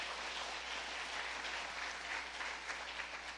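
A church congregation claps during a Korean revival service, a soft, steady, distant patter of applause over a low hum.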